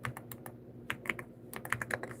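Quick, light keystrokes on a computer keyboard come in irregular bursts with short pauses, close and quiet, with no voice.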